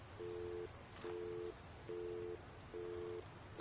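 A phone's busy signal sounds in Alan Wake, low steady tone beeps repeating in an even on-off rhythm, four and a half pulses, faint over background hiss with no talk.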